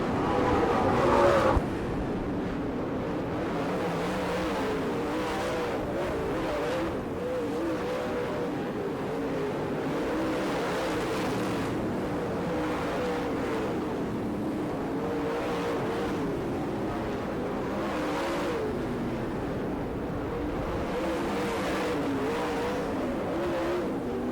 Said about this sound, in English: Steve Lucas in car number 5 as Davey Johnson works his way through lap traffic.